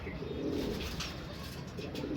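Soft, low cooing of pigeons close by, steady and murmuring over a faint background hiss.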